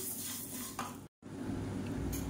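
Green gram (payir) dry-roasting in a pan, a close, continuous sizzle and rustle with occasional scraping, broken by a brief moment of silence partway through.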